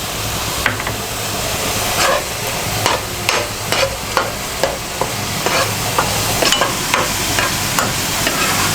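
Green chillies frying in gravy sizzle steadily in a pan, broken by regular sharp clacks as the mixture is stirred, with no talking.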